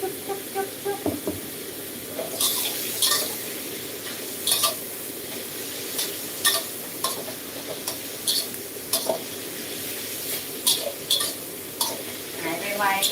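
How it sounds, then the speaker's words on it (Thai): Eggplant being stir-fried in a pan for a Thai eggplant dish, a steady sizzle broken by repeated scraping and clinking of a utensil against the pan at irregular intervals, close by. "ก็จะผัดซุปมะเขือนี่ค่ะซุปมะเขือหายไวกัน"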